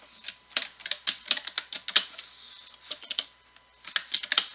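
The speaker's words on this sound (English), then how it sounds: "I just want to type these in" Someone types on a computer keyboard in short bursts of crisp, close key clicks, pausing briefly between runs, in an otherwise quiet room.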